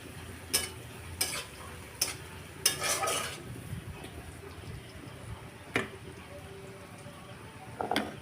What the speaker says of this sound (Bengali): কাঁচা লঙ্কা, পেঁয়াজ, সর্ষে ওগুলো ভাজা হয়ে গেছে